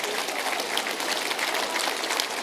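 A crowd at a birthday barbecue claps steadily and loudly, a dense wash of applause that holds evenly from start to finish with no voices standing out.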